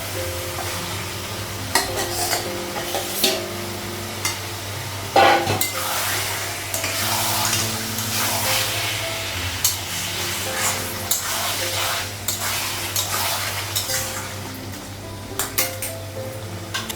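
Eggplant fries in a pan while a utensil stirs it, giving a continuous sizzle with irregular scraping clatters of metal against the pan and one louder knock partway through.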